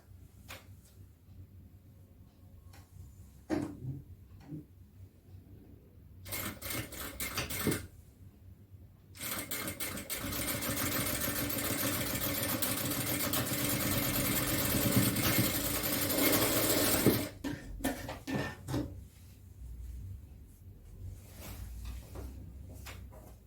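Sewing machine stitching dot practice on fabric, with two bursts of steady mechanical whirring, the longer one running about eight seconds, between quieter handling clicks and knocks, close by.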